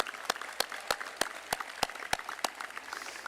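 Commencement audience gives sparse, scattered applause for student musicians, about nine distinct sharp claps spaced at a steady rhythm against a quiet hall.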